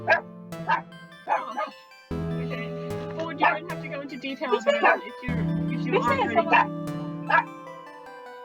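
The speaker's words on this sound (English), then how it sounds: "apologize for the dog barking." A dog in the room barks several times in sharp, loud yips and bow-wows, mixed with a person's speech and steady background tones.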